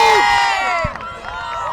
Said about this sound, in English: The crowd go wild.